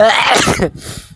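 A single sharp, loud sneeze up close, followed by a brief quieter breathy tail.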